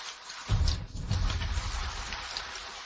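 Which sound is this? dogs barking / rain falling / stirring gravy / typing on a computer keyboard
rain falling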